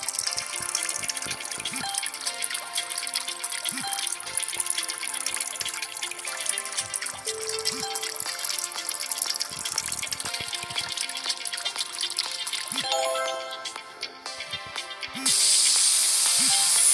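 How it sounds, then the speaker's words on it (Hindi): A steady hiss of water spraying while a car is washed in a video game, running continuously at an even level and growing louder and harsher in the final seconds, with tonal background sounds underneath. "अब हम इसे पानी से अच्छे से धो देंगे।"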